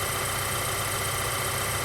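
A Volkswagen Jetta 2.0 TSI engine idles steadily at operating temperature, a constant close mechanical hum and whir with a broad hiss and no talk.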